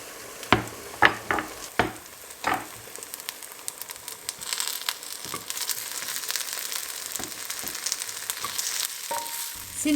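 Sujuk slices and pizza toppings sauté in a pan for a stovetop potato-and-egg pizza. A few sharp utensil knocks and stirs come first, then a steady, close sizzle runs to the end.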